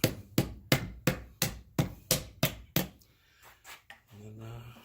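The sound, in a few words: hard mallet hitting a wooden stump across the grain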